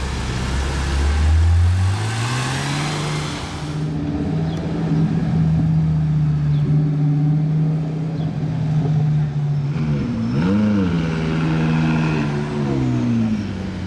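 A McLaren LT Spider supercar revs loudly nearby, its engine note holding steady before sweeping up sharply in a couple of throttle blips near the end, with the street around it busy.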